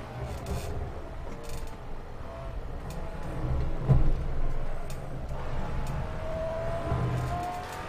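Simulated race car engine droning in Assetto Corsa at Monza, from a Maserati Alfieri or Pagani Huayra BC, a continuous steady tone with gentle rises in pitch, held at a moderate level.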